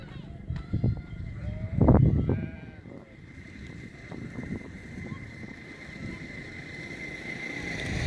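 Goats bleat a few times at close range beside a canal, one loud cry standing out, over outdoor background noise and some nearby talking.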